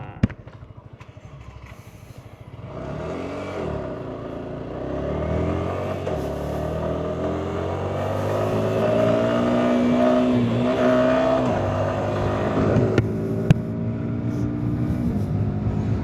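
A 2025 Yamaha R125 motorcycle with a quick shifter is ridden home from work, its small engine idling briefly, then revving up and holding a steady, climbing drone through quick gear changes, close and continuous with wind.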